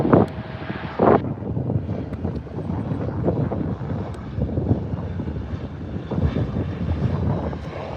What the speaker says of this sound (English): Lots of planes approaching